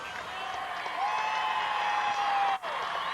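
A crowd claps along at a 2002 Big Ten women's gymnastics championship floor routine, steady distant applause blended with the floor music, with a commentator talking over it.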